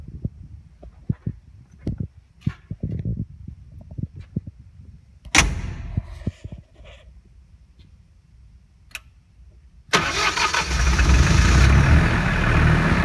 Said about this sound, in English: This generator set is a 15 KVA three-phase Perkins diesel with a Stamford alternator and a 180 litre fuel tank.